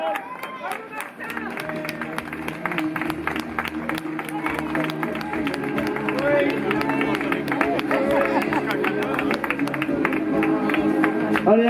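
Spectators at a 2019 street race clap and cheer for passing runners, a steady wash of applause and crowd noise that builds and holds to the end, with a voice talking over it throughout.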